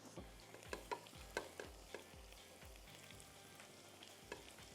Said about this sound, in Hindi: इसको ऐसे हिलाते जुलाते रहिए